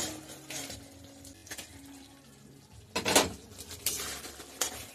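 Pointed gourds tipped into a cooking pan, giving a few sharp clatters and knocks against the metal in bursts, close and moderately loud, with no talking.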